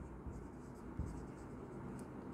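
Pen scratching across paper during an accounting lesson on financial statements, a quiet steady scribble with a couple of short louder strokes, close and faint, no talking.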